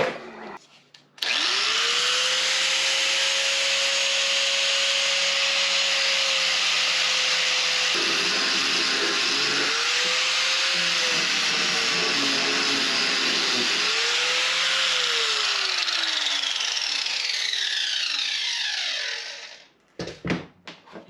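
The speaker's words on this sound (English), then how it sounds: "Oh, I got an angle grinder right there. We will go with that." An angle grinder sanding a wooden residential door fitted on an RV, a loud sustained whine that spins up at the start, shifts pitch under changing load mid-run, then winds down near the end.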